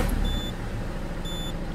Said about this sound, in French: je vais mettre un petit bip. Les petits beepers, là, comme ce que j'ai, là, comme dans les voitures